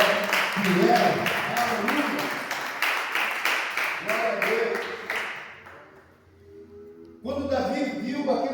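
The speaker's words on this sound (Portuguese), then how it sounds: "Pode aplaudir o Senhor bem forte" A church congregation claps loudly and rhythmically in praise, a dense burst of applause that fades out before clapping briefly resumes.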